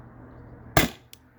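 A single sharp crack from a Byrna SD launcher firing a salt or aluminum round outdoors over a chronograph, close and abrupt, followed by a faint second tick.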